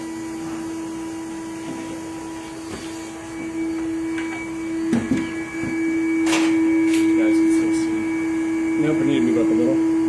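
A vacuum pulls honey bees out of a hive inside a wall, a steady loud motor drone with a high tonal whine. The pitch shifts as the nozzle moves, and someone talks briefly over it.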